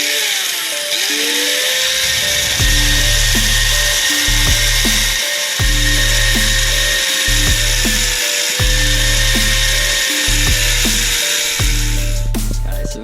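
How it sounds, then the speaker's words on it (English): An angle grinder cuts a metal motorcycle seat pan for an XVS650, a loud close whine with repeated pulsing bursts as the disc bites and eases off the metal. "what we're going to do is just grind, cut there, and maybe cut that off just to neaten it up"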